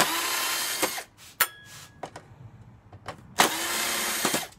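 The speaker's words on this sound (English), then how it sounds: "Great to speed things up when you have the power drill." Close-up bursts from a power drill backing screws out of a fencing cable reel: one whir at the start, another longer run near the end, with metallic clicks and rattles between them.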